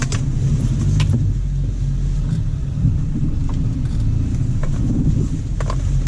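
A car engine rumbles steadily as the vehicle backs slowly into a narrow alley, a continuous low drone with faint clicks and knocks scattered throughout and no talk.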